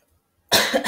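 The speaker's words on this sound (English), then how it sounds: "Cough, cough." After half a second of silence, a single short, sharp cough bursts out close to the microphone.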